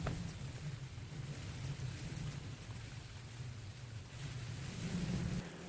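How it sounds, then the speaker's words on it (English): Steady low rumble of wind with a soft wash of rain at Binsey, continuous and fairly faint, with no voices. "Raining and windy."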